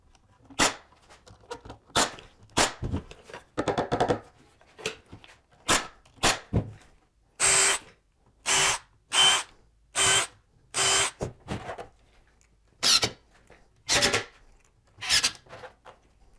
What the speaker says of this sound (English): as I was screwing this together, I didn't drive these screws all the way home